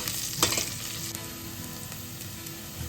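Sliced onion sautéing in a pan for masala pulao: a steady, even frying sizzle with a couple of soft stirring scrapes near the start, with no voices.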